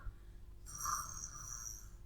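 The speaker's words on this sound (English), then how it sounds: "He's still snoring." A soft snore read aloud for a sleeping bear in a picture book, one breathy nasal rasp rising after a short pause, close and quiet.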